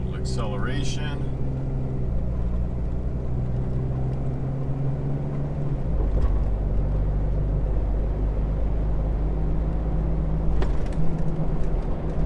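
A Jeep JK with its 3.6 Pentastar V6 and stock airbox accelerates from cruising speed, giving a steady low engine drone that swells slightly, with a brief voice at the start and mild road rumble throughout.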